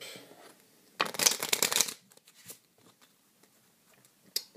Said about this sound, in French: on va mélanger un peu le paquet